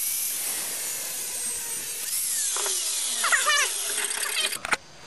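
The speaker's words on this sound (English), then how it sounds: "So we're just going to cut that thing off." A cutting tool, likely a rotary cutter, trims a leftover metal tab held in a vise, giving a close, steady high-pitched whine that shifts in pitch as it bites, then ends with a few brief rattles.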